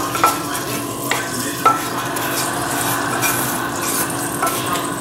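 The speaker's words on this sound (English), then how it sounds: "now we keep stirring it here in this pot" A gumbo roux being stirred in a pot, with steady scraping of a utensil against the pot and a soft sizzle underneath, punctuated by a few sharp clinks.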